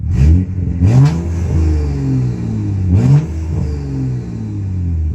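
A car engine revs up sharply a few times to only about 3,000 RPM, each surge rising in pitch and then settling back to a steady, rumbling idle.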